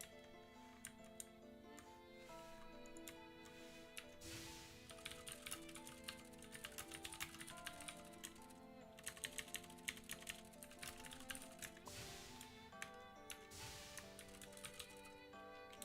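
Rapid clicking of a computer keyboard during gaming setup, irregular bursts of close, crisp keystrokes layered over steady background music.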